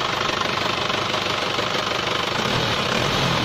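An Isuzu Panther's diesel engine runs at idle with a dense, steady clatter and constant rumble, heard up close without a break.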